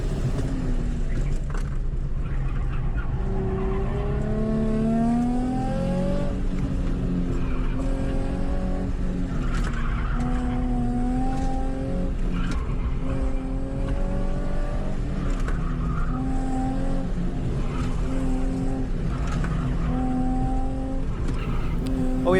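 A Nissan 350Z on an autocross run, its engine revving and climbing through the gears in repeated rising pulls, close and loud, with brief tire squeal and no talk.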